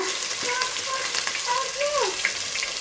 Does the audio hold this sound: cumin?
yes